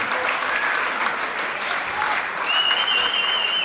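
Audience at a Muay Thai fight night claps steadily after a three-round bout, a full, sustained round of applause with a whistle rising near the end.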